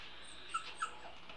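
Newborn service-dog puppies in a litter give two faint, thin whimpers a moment apart, set against quiet room noise, with no talk.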